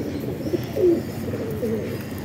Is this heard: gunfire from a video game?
no